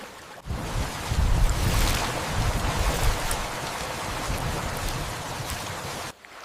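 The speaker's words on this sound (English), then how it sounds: "Gurgling water. Distant thunder." Water gurgles and washes continuously through flooded Amazon forest, with deep low rumbles like distant thunder swelling in the first few seconds before the sound cuts off, and no voices.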